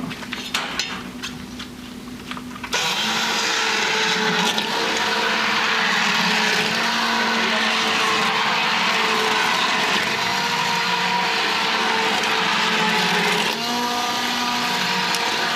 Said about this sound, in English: Now for the mixer.